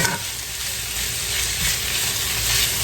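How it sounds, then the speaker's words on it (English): Potato hash sizzles steadily in a hot pan as it gets stirred together, a dense even crackle with soft scraping under it and no voices. "Just going to stir this all together."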